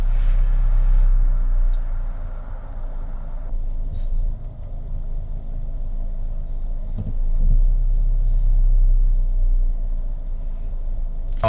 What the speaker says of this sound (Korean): 다시 한번 스포츠 모드 상황에서 스타트를 킥다운을 해서 얼마까지 나오는지 한번 알아보도록 할게요